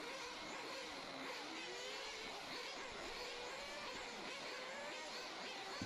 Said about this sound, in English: as you can hear in the background, here come the engines